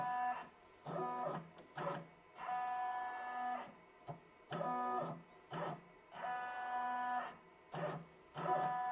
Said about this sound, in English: Now we're just gonna trace.